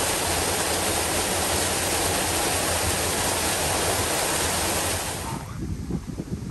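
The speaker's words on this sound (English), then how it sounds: "this waterfall over here is really cool" Waterfall beside the Colorado Trail, a loud steady rush of falling water close by that eases into a quieter mix of water and wind near the end.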